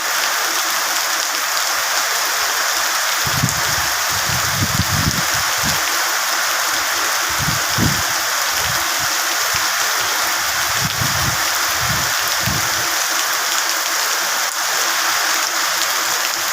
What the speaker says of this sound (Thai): ฟังเสียงฝนอีกแป๊บหนึ่งนะครับ พี่น้องเนาะ คืนนี้น่าจะยำใหญ่ครับ น่าจะตกทั้งคืน